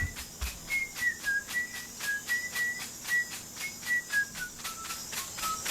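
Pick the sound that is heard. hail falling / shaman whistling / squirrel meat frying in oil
shaman whistling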